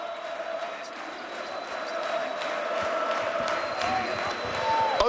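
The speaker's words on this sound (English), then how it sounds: "There's the crowd. They're getting ready for what will be a real party, they hope" Basketball arena crowd before a Eurocup game between Besiktas and Hemofarm in Turkey, a steady roar of many voices and cheering that swells slightly toward the end, with scattered thuds and whistles in the busy din.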